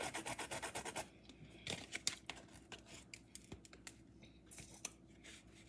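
A knife or utensil scrapes burnt bits off toasted bread in quick, close, rasping strokes, fast and rhythmic at first and then slower and more irregular.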